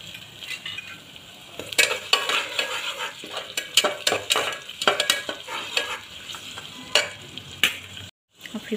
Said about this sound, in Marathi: आता बारीक चिरलेला टमाटर टाकू। टमाट्याला पण चांगलं परतून घेऊ।